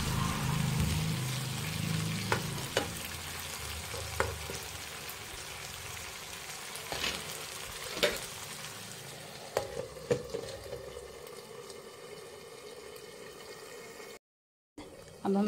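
Chicken and mushrooms cook in a covered pan with a soft, steady sizzle, broken by occasional light pops and clicks, quiet and close.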